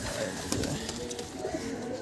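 Roller pigeons coo softly and repeatedly at a quiet level, mixed with faint shuffling and scattered bird noises nearby.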